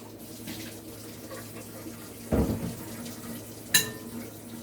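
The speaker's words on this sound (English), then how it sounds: "So I'm gonna strain it" Bitter gourd juice strained through a strainer, with a short liquid splash midway and a quick bright clink near the end, set against a faint, steady kitchen background.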